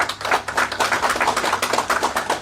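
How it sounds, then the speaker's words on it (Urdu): Crowd applause at a political rally in Bihar for Shravan Kumar, a dense, steady patter of many hands clapping together, fairly loud and sustained with no talk over it. "ایک بار شرون کمار جی کے لیے زوردار تالیاں بجائیے"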